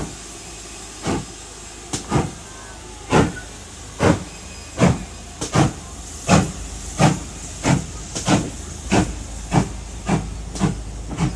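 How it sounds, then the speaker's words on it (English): Whitewick Hall steam locomotive pulls away from Northwood Station on a heritage railway, its exhaust chuffing loudly in a steady rhythm of about fifteen sharp beats that gradually quicken, over a continuous hiss of steam. "Now here is the Whitewick Hall train, or as we call it, the Harry Potter train from now on, ready to depart Northwood Station"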